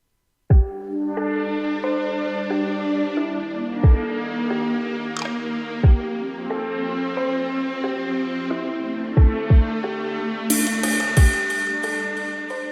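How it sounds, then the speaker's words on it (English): Synthesized electronic music plays steadily: sustained pad chords and high bell tones over sparse drum and percussion hits, ending with a brighter bell flourish, loud and close with no voices. "For the melodic parts of the music I've used a pad to get some midtones and a bell for some higher pitched"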